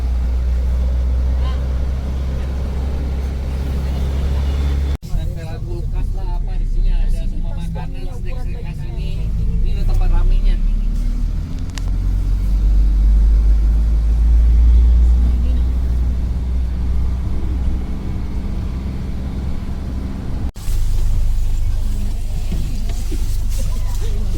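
A small city-tour bus rolls through Sapa, Vietnam, its engine a steady low rumble with road noise throughout, while voices murmur faintly over it.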